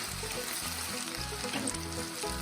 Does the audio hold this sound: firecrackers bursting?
no